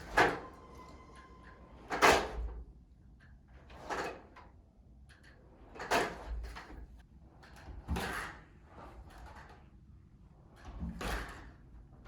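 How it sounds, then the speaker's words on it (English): Doors in a home fitted with Interlogix alarm sensors are opened and closed several times, giving sharp knocks and latch clicks spaced roughly every two seconds against a quiet room, with no talking. "So I'm going to go open and close those doors real quick"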